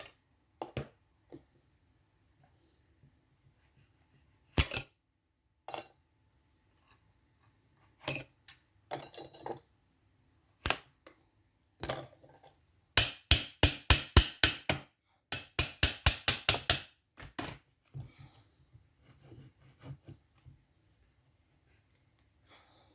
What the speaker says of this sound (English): Tap the gear lever lightly until the plastic bush slides out of the seat along with the main and secondary